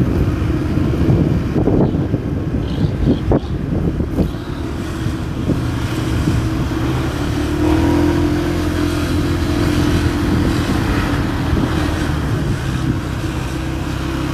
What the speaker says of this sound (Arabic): صعيب انك تسوق موتور وتقرا كل شيء.